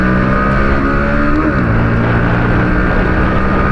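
Bajaj Pulsar NS125 motorcycle engine pulling at high RPM while riding at speed, a loud, steady buzzing drone heard close up, its pitch shifting slightly midway as the revs change.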